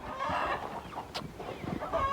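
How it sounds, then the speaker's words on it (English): Chickens on a homestead cluck steadily while feeding, a busy flock of overlapping close-up clucks and short calls running throughout the brief stretch. "And the chickens are eating away."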